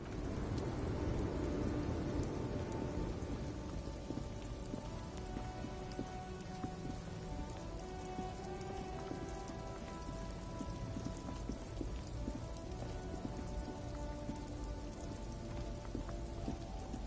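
Rain pours steadily on surfaces during a traffic jam in a video game, a dense continuous patter heard alone at a low, even level.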